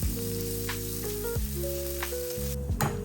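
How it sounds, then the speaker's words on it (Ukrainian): Mushrooms and onions stew in a frying pan for an omelette, giving a steady, close sizzle that hisses continuously, with background music humming underneath. "Тепер до цибульки додаємо грибочки, гарно все перемішуємо і тушкуємо ще 2-3 хвилинки до готовності грибочків."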